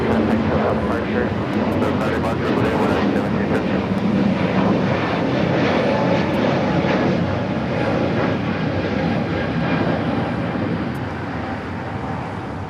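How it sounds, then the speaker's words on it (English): Volaris Airbus A321neo taking off from runway 25 right at LAX, a loud, sustained broadband jet engine roar that holds steady for the whole span and eases slightly near the end, with people talking over it. "Polaris A321 Neo taking off."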